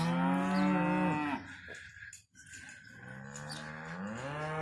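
Calves mooing in a cattle pen on a wet, muddy day of preg checking, brucellosis vaccination and castrating, with loud, drawn-out bellows from close by that break briefly mid-clip and then resume.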